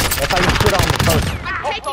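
Rapid automatic gunfire in Call of Duty: Modern Warfare, a dense burst of close, loud shots for over a second, then trailing off into scattered sounds and brief tonal effects.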